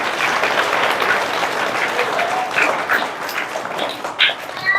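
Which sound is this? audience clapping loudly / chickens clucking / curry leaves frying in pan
audience clapping loudly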